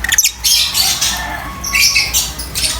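Pet lovebirds squawk at feeding time, a dense, loud run of shrill overlapping calls close to the microphone with only brief pauses.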